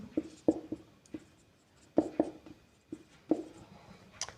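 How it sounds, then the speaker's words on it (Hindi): Chalk or marker strokes on a board during a commerce class, a series of short sharp scratches and taps in irregular bursts, fairly close and clear with no talk over them. "मैं फिर से लिख रहा हूँ"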